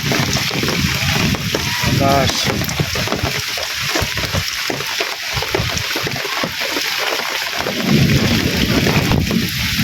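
Continuous roar of wind and heavy rain with a low, rumbling thunder-like undertone; a person talks loudly over it.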